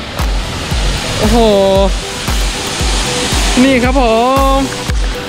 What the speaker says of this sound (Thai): ในที่สุดเราก็มาถึงน้ำตกจนได้โอ้ตามหาตั้งนานและแบบน้ำเยอะมาก